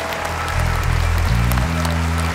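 A short burst of theatre audience applause at Teatro Petruzzelli, steady clapping from a crowd with a low hum underneath.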